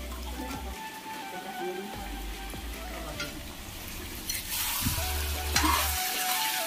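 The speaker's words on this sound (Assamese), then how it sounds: "এইফালে মাংস বনি আছে" Meat sizzles in a pan as it is stirred, a continuous close crackling hiss with occasional scraping and a low hum underneath, growing slightly louder toward the end.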